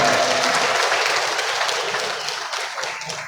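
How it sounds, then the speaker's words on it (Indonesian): A crowd at a debate between regent and deputy regent candidates in Lampung Utara claps loudly in a thick, continuous wash that fades slightly toward the end. "Tepuk tangan untuk kita"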